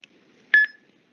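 A single short electronic beep, clear and fairly close, in an otherwise quiet moment.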